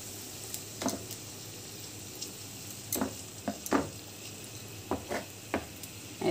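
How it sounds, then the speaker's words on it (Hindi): Aloo pakora rolls sizzling in hot oil: a steady low bubbling hiss with scattered sharp crackles and pops, close and moderately loud, no voices. "देखिए मैंने तेल गरम कर लिया है, अब ये हम रोल्स डाल देते हैं"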